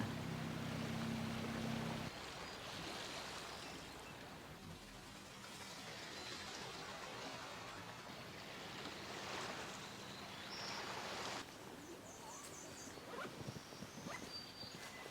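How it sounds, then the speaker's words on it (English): Fishing boats out on the water off the coast of Maine in the cold early morning, a steady low rumble of engines mixed with wind and lapping waves, fairly distant and continuous. "Hearing the fishing boats"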